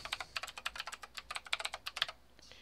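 Someone types a name on a computer keyboard while setting up Mac OS X Sierra in a virtual machine: a quick, quiet run of close key clicks that stops after about two seconds.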